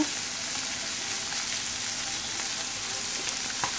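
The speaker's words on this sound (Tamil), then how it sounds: "இப்போ இன்னும் கொஞ்சம் லைட்டாக கொஞ்சம் எண்ணெய் ஊற்றிக்கிறேங்க" Fish fries in hot oil, giving a steady, close hiss of bubbling sizzle with small pops and no talking.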